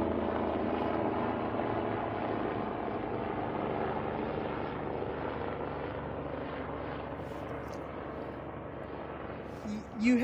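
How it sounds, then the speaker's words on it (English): A steady, droning helicopter rotor hum fills the air at constant loudness, a broad engine rumble continuing throughout before a brief sound at the end. "Here comes the helicopters, right?"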